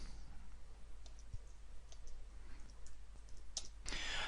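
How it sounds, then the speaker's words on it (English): Sparse keystroke clicks from typing on a computer keyboard while adding text in a presentation, scattered irregularly over a steady low hum, with a faster burst of clicks near the end. "I'm going to do a little bit more typing."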